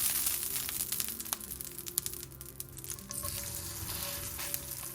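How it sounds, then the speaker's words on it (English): Steady, crackling sizzle of a black bean, mushroom and olive burger patty frying in hot oil, close and continuous with small pops and spatters throughout. "So you want that sizzle because that's really important in creating that texture that you want."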